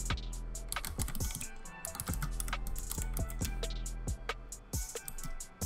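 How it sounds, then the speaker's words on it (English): Rapid typing on a computer keyboard, a dense run of crisp key clicks nearly continuous, close up and alone with a low steady background hum. "We're gonna go ahead and type."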